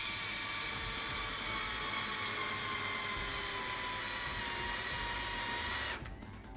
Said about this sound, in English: Cordless drill again.